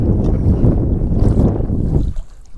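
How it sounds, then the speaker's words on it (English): Steady wind gusting across a microphone while fishing for crappie from a boat on a lake, a loud continuous low rumble that eases near the end. "that was just the wind"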